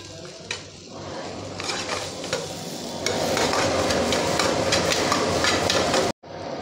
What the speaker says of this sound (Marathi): तर आपण ज्यात मटणाची पीस घालू.